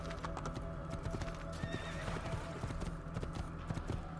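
Horse hooves clip-clop steadily in Assassin's Creed II gameplay, with a neigh partway through over a busy in-game background of crowd bustle and ambience.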